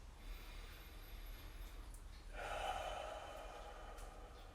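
Slow, deep breathing during shoulder and upper back mobility stretches, a soft airy breath swelling midway and trailing into a long drawn-out exhale, quiet and close.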